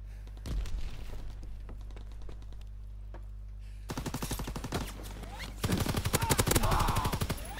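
Video-game WWII assault rifle firing in rapid automatic bursts, loud and close, several volleys separated by brief pauses, the last burst longest and densest.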